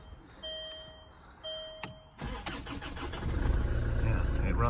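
A Land Rover Freelander 2 raised on axle stands cranks over after a crankshaft position sensor replacement, with a couple of short starter bursts before the engine catches and settles into a rising, steady run.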